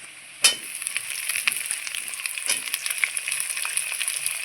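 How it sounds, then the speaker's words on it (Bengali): Taro leaves tipped into hot oil in a kadai, an abrupt thump followed by a continuous high crackling sizzle with scattered pops and stirring scrapes, close and fairly quiet. "এইবার আমি কচুর শাকগুলো ছেড়ে দিচ্ছি কড়াইয়ে"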